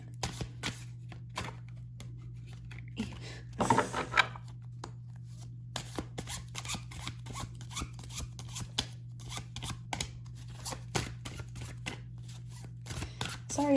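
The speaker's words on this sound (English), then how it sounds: "Sorry if my shuffling takes a while." A deck of tarot cards is shuffled in short, soft, repeated riffles and rustles over a faint steady hum, close and quiet.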